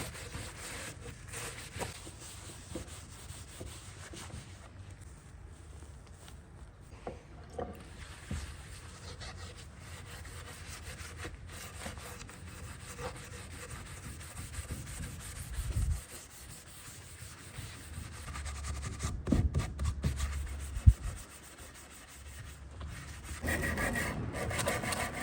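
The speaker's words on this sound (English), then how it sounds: "then I'll come back with some 2/0 steel wool and really just try to get as much of" Fine 2/0 steel wool rubs stripper residue off an Art Deco wooden buffet in a steady, close, scratchy back-and-forth scrubbing that continues without talk and grows a little louder near the end.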